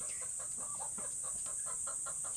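Backyard chickens cluck in short, repeated bursts at close range over a steady high-pitched background hum, with no talking.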